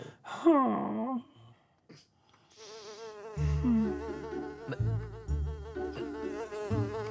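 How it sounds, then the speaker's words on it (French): A thin, whining insect buzz that wavers in pitch, like a mosquito, followed by louder low rumbling and tonal sounds. "Mais il y a un nouveau moustique ici."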